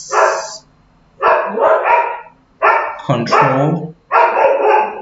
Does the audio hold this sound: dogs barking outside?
yes